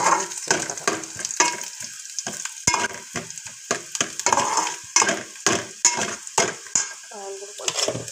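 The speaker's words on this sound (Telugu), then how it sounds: "కొంచెం జీలకర్ర వేసుకుందాం." Cumin seeds sizzle in hot oil in a pan, the crackle broken by a steady run of sharp clinks and scrapes as a utensil stirs, close and fairly loud throughout.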